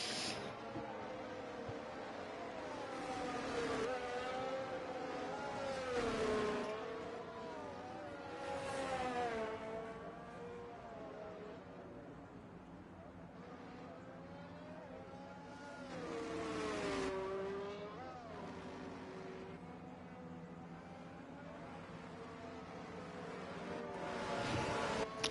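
Racing cars in a racing video game on the China circuit, engines rising and falling in pitch as they accelerate and shift, several passes over about twenty-five seconds at moderate level with no talk.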